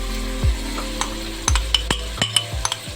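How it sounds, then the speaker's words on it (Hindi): Meat curry with potatoes sizzles quietly in a pan after tomatoes are added, with a spoon stirring and scraping against the metal several times, clinking irregularly over the low frying sound. "अच्छे से फ्राई हो रहा है"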